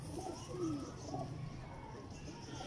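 A female teddy pigeon gives soft, low cooing calls, faint and close by, with a steady murmur of background noise behind them.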